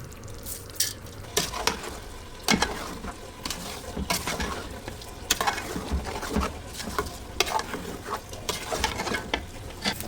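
Rice and chicken fry together in a pot, the stirring giving a soft ongoing sizzle punctuated by repeated scraping strokes, steady and close with no talking.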